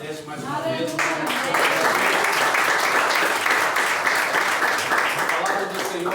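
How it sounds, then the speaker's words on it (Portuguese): A church congregation breaks into dense, loud applause that swells and holds steady, following a voice speaking over the start. "Palmas engrandece mais uma vez."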